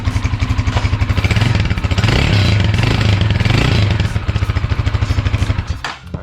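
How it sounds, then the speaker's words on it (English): A 2021 Honda Rebel 250 motorcycle engine rumbles at idle, revs up into a rising roar for a couple of seconds, then drops back to a steady chug before cutting off. "Get a little rev."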